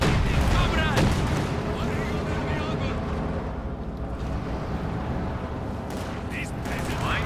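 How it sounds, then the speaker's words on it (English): Su-76 artillery barrage from the Company of Heroes 2 game, a loud, dense wall of rumbling blasts and crackling gunfire with brief game voice snippets mixed in. "another Su-76 barrage, once more tearing out the lives of many Germans"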